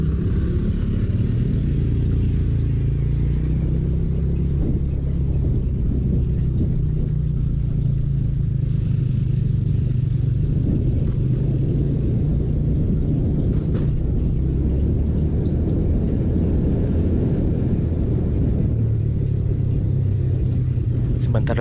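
Heavy traffic on a busy city road in Cimahi, a constant loud low rumble of cars and motorcycles idling and creeping in a jam, heard close from within the traffic with a voice speaking over it.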